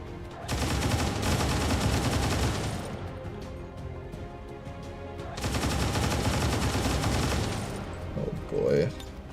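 Bursts of XCOM 2 gunfire aimed at a Mechapede, two loud sustained volleys of rapid shots separated by a quieter pause, with a short crackle near the end.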